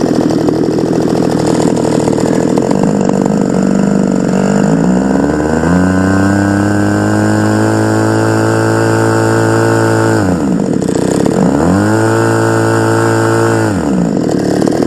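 A small high-revving engine on a quarter-scale clipped-wing Taylorcraft model airplane buzzes loudly and continuously, its pitch climbing and then dipping twice as the throttle is opened and eased off.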